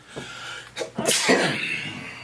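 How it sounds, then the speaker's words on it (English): A single loud sneeze close up, a quick breathy intake followed by a sharp explosive burst, over a faint background hiss. "where you can see me sneeze."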